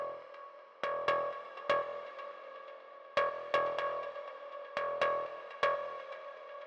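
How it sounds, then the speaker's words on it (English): Repro 1 FM synth playing a high note in a high octave, sharp plucked attacks repeating in an irregular rhythm with bright ringing tones decaying between hits, quiet and alone. "The first one plays a high note on high octave,"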